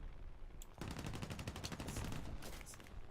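Enemy aircraft guns rattle in War Thunder, a naval battle with a P-47 nearby: a dense, fast burst of automatic fire starts abruptly and holds steady for about a second and a half before tapering, loud and close.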